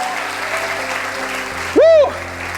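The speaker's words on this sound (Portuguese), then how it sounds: "Você pode aplaudi-lo aqui nesse lugar?" A church congregation claps in a steady, moderate patter, with a sustained musical tone from an organ or keyboard underneath and a brief rising vocal or instrumental swell near the end.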